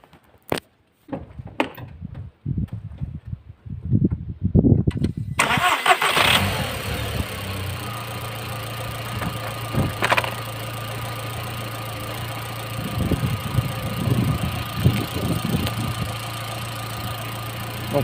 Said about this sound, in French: la voiture démarre tout à fait normalement